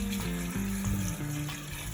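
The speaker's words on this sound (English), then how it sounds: "And then what I'm gonna do now is add some water." Water poured into a pot of beef or lamb curry, a steady liquid pour running for about two seconds at close range with no talking over it.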